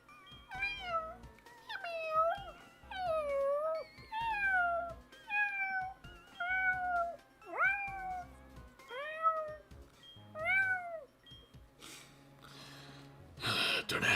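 A person imitating cat meows with a voice, around ten rising-and-falling meows in a steady series, close and fairly loud, followed by breathy gasps and a noisy burst at the end.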